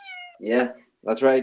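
A house cat gives a short, clear meow at close range, after which voices chat indoors in two brief bursts.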